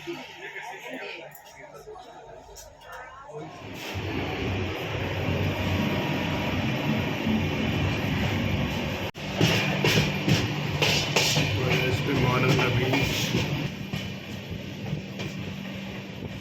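The Vista Dome tourist special train pulls into Gulma station, heard from on board: a quiet start gives way to a rising rumble and rattle of the carriage, with people talking and chattering throughout.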